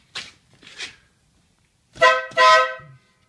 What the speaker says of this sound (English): what does the Wolo horn sound like?